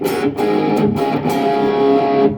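A PRS SE Silver Sky electric guitar through a BOSS GT-8 distortion into an amp plays a few chords, sustained and crunchy, loud and close with no talking.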